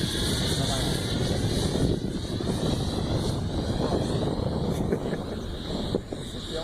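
A ZAGI model jet with a 90mm electric ducted fan on 8S power runs close up, giving a loud, steady, high-pitched jet whine over a broad roar that barely wavers.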